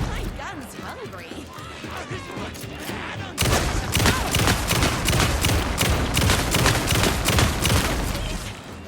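Rapid gunfire from the video game Alan Wake II, a dense run of loud, sharp shots that erupts partway through and continues steadily, following quieter clattering action with a voice speaking.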